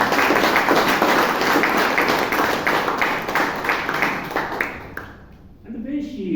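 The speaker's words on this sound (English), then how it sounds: "So another round of applause for Priyanka." Applause for Priyanka at a Bangalore Toastmasters club meeting, a dense wash of clapping from a roomful of people lasting about five seconds, then tapering off as a voice begins to speak near the end.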